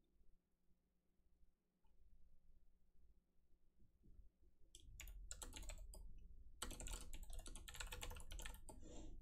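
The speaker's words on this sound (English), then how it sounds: "Little clicky clackies of the keyboard." Clicky typing on a computer keyboard, faint and sparse at first, then becoming dense, rapid and closer in the second half, with a low hum underneath and no talk.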